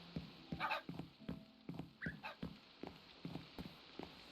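A Minecraft parrot mimics a dog, giving a steady run of short, sharp bark-like yelps at fairly close range, with faint background noise between them.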